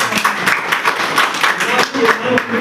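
Audience applause at T. Vellaiyan's 77th birthday celebration, a crowd clapping steadily and fairly loudly for close to three seconds with dense, overlapping claps.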